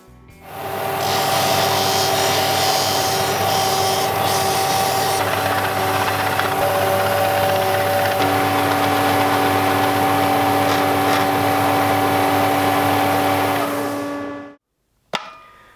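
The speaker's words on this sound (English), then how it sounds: "I'm just going to take it to the sander and we'll shape it up" A power sander shaping a resin and wood pendant whines steadily and loudly for about fourteen seconds, its pitch shifting slightly as it works, then cuts off abruptly.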